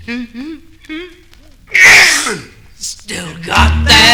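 Sneeze from a 1957 vintage Asiatic flu film, a sharp explosive burst after short vocal sounds, loud and close, followed by further breathy noises.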